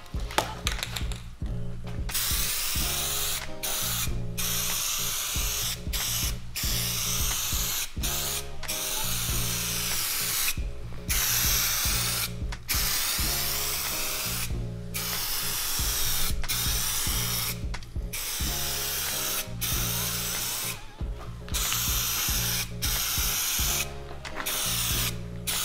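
Clear coat sprayed from an aerosol can in a final wet coat onto wheels, repeated loud hissing bursts of a few seconds each separated by short pauses, with faint rattling and handling noises between.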